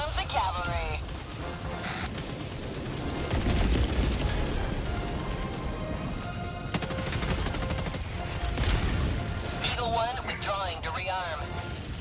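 Explosions and gunfire in the video game Helldivers 2, with rapid bursts and heavy booms building in dense waves. Voices talk over the firing at the start and again near the end.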